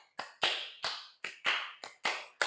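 Sharp hand claps in a quick pattern at a classroom lesson, seven crisp close strikes in uneven pairs over a couple of seconds, with no talking.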